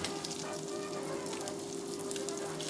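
Wiener Schnitzel sizzles steadily in a pan of hot oil, a dense, continuous frying hiss that holds even and close throughout with no talk.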